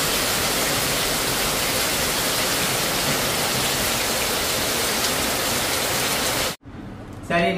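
Heavy rain falling outside a house during a strong windstorm, a loud, dense, continuous hiss that cuts off abruptly near the end.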